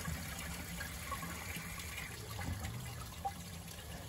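A toilet tank refilling with water, a steady hissing rush and trickle at moderate level running throughout with small gurgles.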